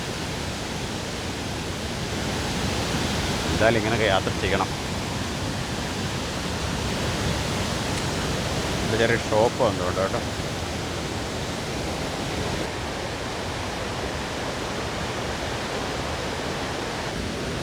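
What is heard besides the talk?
waterfall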